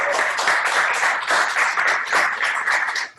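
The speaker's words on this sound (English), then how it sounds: "One more round of applause." An audience at a talk on building mobile apps with Expo claps in a dense, sustained round of applause that fades out at the end.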